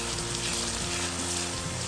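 Moong dal sizzles steadily in a pan over medium heat, a loud, continuous frying hiss close up with a faint bubbling texture underneath.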